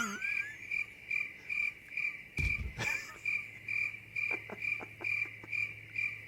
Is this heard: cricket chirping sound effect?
yes